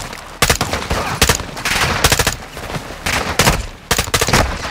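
Heavy automatic gunfire from a Call of Duty: Modern Warfare II campaign firefight, loud close bursts repeating in several separated volleys with brief lulls between them.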